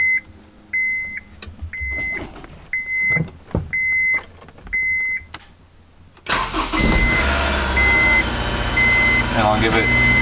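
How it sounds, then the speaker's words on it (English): Honda S2000 engine starting up: repeated dashboard warning beeps in a quiet car, then the starter catches and the engine fires into a loud, steady idle that continues to the end with a chime still sounding. "then what I go ahead and do is start it up."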